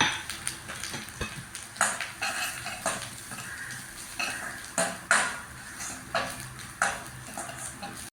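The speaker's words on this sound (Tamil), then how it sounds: "நம்ம தேங்காய் துருவலை எடுத்து அதில் போட்டு வறுத்துக்கலாங்க" Grated coconut roasting in ghee in a pan for rice puttu kozhukattai, a steady soft sizzle broken by repeated scraping stirs of a spoon against the metal, close and moderate with no talking.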